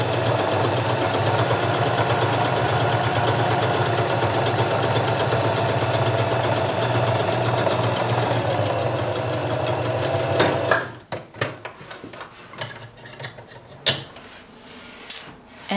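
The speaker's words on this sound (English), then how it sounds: "Now we're going to sew a 1/4 of an inch seam, a very skinny 1/4 inch, 1/4 of an inch seam" A sewing machine stitches a very narrow quarter-inch French seam, running steadily and loudly for about ten seconds, then stopping, followed by a few handling clicks and rustles of fabric.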